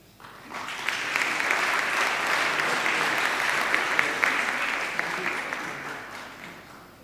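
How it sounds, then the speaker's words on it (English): A large audience at a Founders Day ceremony applauds the winners, the clapping swelling in quickly, holding as a thick sustained roar for several seconds, then tapering slightly near the end. "Please give another round of applause for our wonderful winners."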